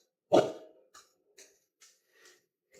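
A protective dog named Draco barks once loudly and close, then gives several shorter, fainter woofs spaced about half a second apart.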